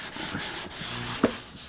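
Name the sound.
sanding wood on an acoustic guitar build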